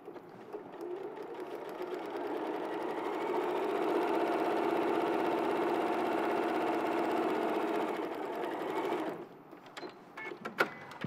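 A sewing machine stitching fabric, a steady whirring, rapid needle hum that runs for several seconds, then stops, followed by a few light clicks and handling noises nearby.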